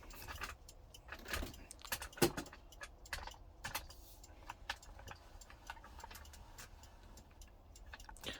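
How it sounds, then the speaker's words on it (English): A wind-up clock ticks steadily in the background near an Ecko Mariner radio, its faint, regular clicks repeating across the quiet room with a few sharper metallic taps in between. "You can hear a clock going in the background."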